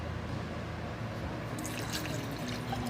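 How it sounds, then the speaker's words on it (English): Melted candle wax poured from a frosting dispenser into a piston cup, a soft continuous trickling and liquid flow that grows a little brighter partway through, close and without talk. "I'm just gonna pour this all the way in there."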